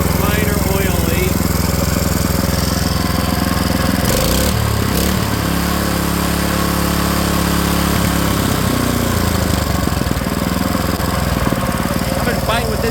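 A small opposed-twin engine salvaged from a junkyard, once seized by rust in the cylinder, running loud and close with a steady uneven putter, its pitch shifting partway through as the revs change.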